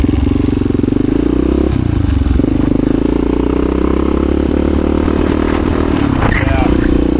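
A freshly built Honda HRC XR628R dual-carburetor dirt bike engine runs close by, a steady loud idle with rises and dips in revs, some clatter, and a voice talking over it.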